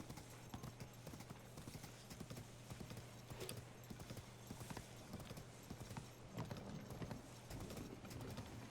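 Horse hooves in the game Tears of the Kingdom, a quick, steady clip-clop of galloping footfalls running continuously at moderate level, with faint bird chirps mixed in.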